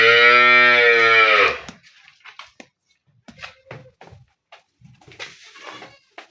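A Holstein Friesian dairy cow gives one loud, close, drawn-out moo lasting over a second. Faint scattered background noises and quiet voices follow it.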